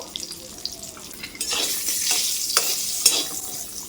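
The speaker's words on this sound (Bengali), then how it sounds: "নাড়াচাড়া করে মাসকালের বড়িগুলো ভেজে নেব" Urad dal bori fry in mustard oil as they are stirred, bright crackling sizzle rising in waves with sharp scraping strokes of the spoon against the pan.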